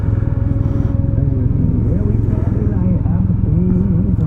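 2024 Can-Am Ryker Sport three-wheeler with a CVT on a demo ride, a loud, steady low engine drone heard close up while a rider talks over it.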